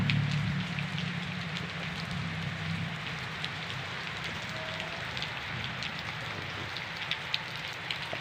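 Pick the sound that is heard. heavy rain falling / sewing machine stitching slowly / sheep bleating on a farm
heavy rain falling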